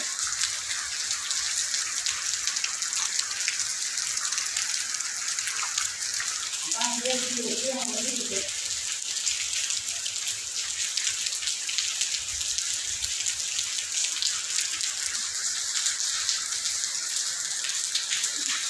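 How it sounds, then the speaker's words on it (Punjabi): Steady rain patters on a surface throughout, with a brief burst of voices partway through. "ਬਾਰਿਸ਼ ਬੰਦ ਹੋਣ ਦਾ ਨਾਮ ਨਹੀਂ ਲੈ ਰਹੀ ਪਹਿਲਾਂ ਥੋੜਾ ਜਿਹਾ ਮੱਠਾ ਹੋਇਆ ਸੀ ਮੀਂਹ ਹੁਣ ਫੇਰ ਵਧ ਗਿਆ"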